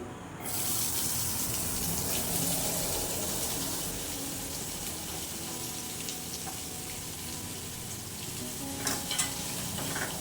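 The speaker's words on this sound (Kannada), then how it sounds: "ಇಷ್ಟೆಲ್ಲ ಹುರಿದಾದ ನಂತರ ಸಣ್ಣಗೆ ಹಚ್ಚಿರುವ ಈರುಳ್ಳಿನ ಹಾಕ್ಕೊಳ್ಬೇಕು." Finely chopped onion fries in a pan with a dense, continuous sizzle and steady stirring scrapes, with a few brief clinks near the end.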